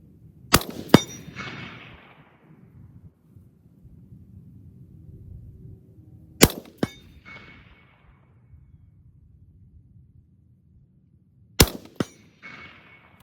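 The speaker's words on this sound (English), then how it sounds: "we're going to go ahead and fire a few shots at 100" Three sharp rifle shots are fired at a target 100 yards out, spaced about five seconds apart, each a loud crack followed by a short ringing tail and quiet outdoor background between shots.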